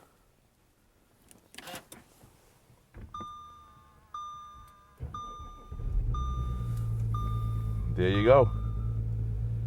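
Cold-weather start of a 2016 Audi TDI diesel at minus three degrees: a series of dashboard warning chimes rings out, then the engine catches and settles into a steady low idle rumble beneath the chimes, with a brief spoken remark.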